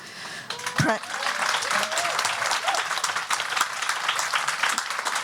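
A crowd breaks into loud, sustained applause, steady clapping filling the room for several seconds.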